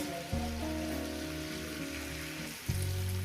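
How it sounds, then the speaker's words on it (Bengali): Mourala fish with potato and onion sizzle steadily in a pan, a soft, even crackle that stays close beneath tonal background music. "হালকা দিয়ে এটাকে আমি সুন্দর করে ভেজে নিব"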